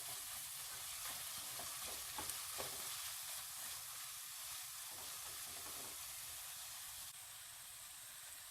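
Tomatoes with pav bhaji masala, Kashmiri chilli and kasuri methi cook in a pan with a steady, close sizzle and soft stirring scrapes. The sound is fairly quiet and continuous, with no talk.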